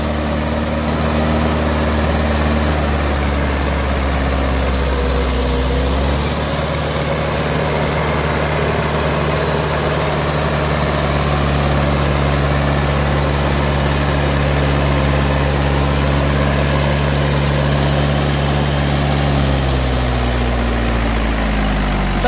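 A Mahindra 575DI tractor fitted with a 7-foot Saktiman rotavator runs as a loud, close, steady diesel drone, its pitch shifting slightly partway through and settling again near the end. No talk.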